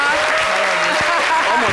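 An audience claps continuously, a dense close wash of applause, while voices talk over it and a low thump lands midway.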